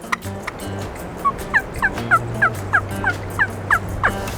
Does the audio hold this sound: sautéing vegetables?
no